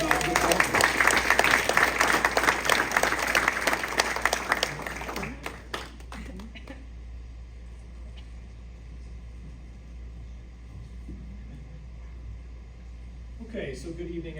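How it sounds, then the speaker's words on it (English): Attendees at a township board meeting applaud with dense clapping for about five seconds before it stops abruptly, leaving a quiet room with a steady low hum and brief voices near the end. "please give him a nice, warm, powerful round of applause"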